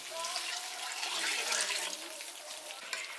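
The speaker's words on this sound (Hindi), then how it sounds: "जिस बर्तन में हम जितना चावल लिए थे उतना ही हम पानी डाल देते हैं।" Water pours steadily into a pot of rice with a continuous, gushing splash that stays fairly constant for a few seconds.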